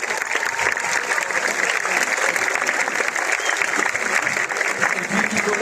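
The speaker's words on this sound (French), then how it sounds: "Je vous propose, même s'il n'est pas encore là, déjà d'applaudir Rémi Durup." Applause from a classical concert audience in Lyon, a full, sustained clapping from a large hall crowd that carries evenly from start to finish, with a voice faintly present underneath.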